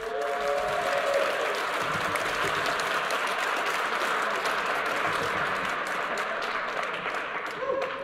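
An awards-ceremony audience applauds and cheers steadily for a presenter walking on stage, a dense wash of clapping with voices calling out in the crowd.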